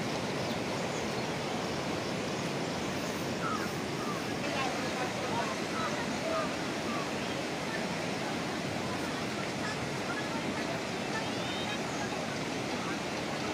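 Floodwater strong enough to sweep away vehicles roars in a constant, dense broadband rush that stays steady throughout, with indistinct voices buried beneath the torrent.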